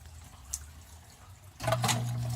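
Water pours from several tubes into a water dragon tank, a quiet trickle at first that swells after a moment into a louder, splashing flow.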